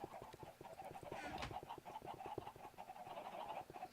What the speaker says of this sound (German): Also Hühner habe ich genug für den Moment